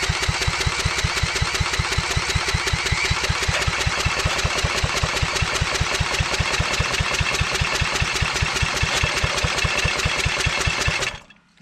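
A power drill fitted with a 5/16 socket cranks a small engine in a continuous, fast, even chugging rhythm, loud and close, for about eleven seconds before stopping abruptly, with no talk.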